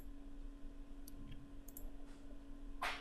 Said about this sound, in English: Now click for a comment.